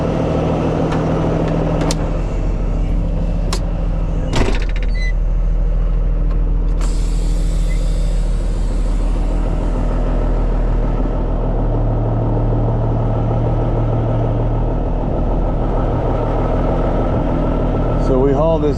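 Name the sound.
tow truck engine and air brakes while positioning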